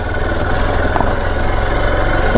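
A motorcycle running along a rough, unfinished road, its engine a steady close rumble with constant vibration and road noise.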